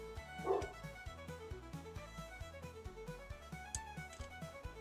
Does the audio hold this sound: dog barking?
yes